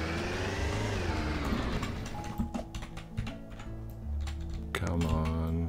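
A car engine revving in Roblox Lumber Tycoon 2, a rising, falling whine heard under a speaking voice and loud clattering keyboard typing.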